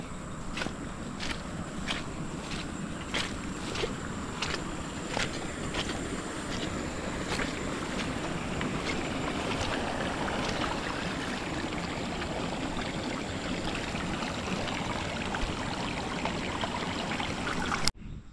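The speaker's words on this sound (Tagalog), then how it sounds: "Lakas ng tubig." Strong water flows through a rice paddy, a steady rushing wash heard up close with wind noise and repeated light ticks over it.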